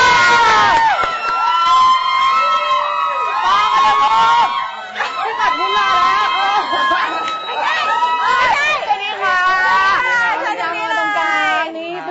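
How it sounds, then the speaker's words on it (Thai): A studio crowd on the Thai TV show AF Gang cheers and shrieks excitedly as a guest arrives, with loud overlapping voices and squeals throughout. "ขอเสียงปรบมือต้อนรับน้องปอ"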